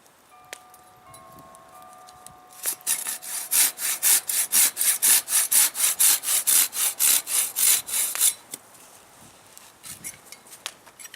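A hand saw cuts through wood held in a leg-vise setup, about twenty steady rhythmic strokes, loud and close, beginning after a quiet stretch and stopping abruptly near the end.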